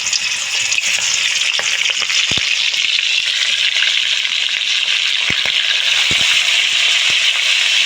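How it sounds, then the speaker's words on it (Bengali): Prawns dropped into hot oil in a wok fry with a loud, steady sizzle and crackle that lasts throughout, with a few sharper pops and clicks rising above it. "কড়াতে তেল গরম করতে দিয়েছি, দেখতে পাচ্ছ। এখন আমি চিংড়িগুলো ছেড়ে দেবো একটা একটা করে।"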